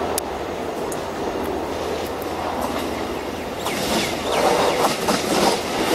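A Lilydale suburban train passes at East Richmond, a distant rolling rumble with soft wheel clatter and brief squeals that swells toward the end.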